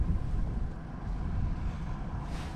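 Moderate wind blowing across an open powerboat during RYA Powerboat Level 2 training, a loud, steady low rumble and buffeting that continues without a break for the whole stretch, with no voices.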